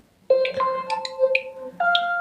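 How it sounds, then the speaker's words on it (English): A OnePlus Nord 4 phone plays a ringtone, a loud, clear melody of bright electronic tones in a short rising phrase that restarts after a brief gap, with no speech. "You can see the ringtone is changed."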